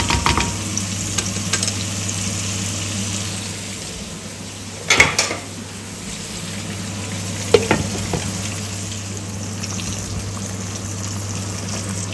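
Squash simmering in coconut milk in a pot, a continuous bubbling, sizzling hiss with a couple of sharp utensil knocks against the pot, close and without talk.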